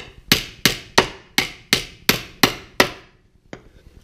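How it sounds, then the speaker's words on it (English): Eight loud, evenly spaced hammer blows drive nails into a wooden muskrat float, followed by a pause and a single lighter tap. "I'm gonna finish nailing these on"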